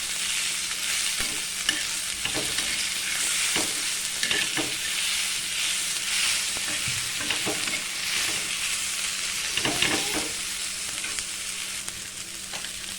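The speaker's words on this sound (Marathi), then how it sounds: "याच्यात अर्धी वाटी शेंगदाणे घालून घेणार आहे आणि हे पण छान खमक भाजून घेणार आहे" Half a bowl of peanuts roasting in a pan for an aloo matar dish, crackling and sizzling steadily up close, with repeated scrapes and knocks of a spoon stirring them; no one speaks.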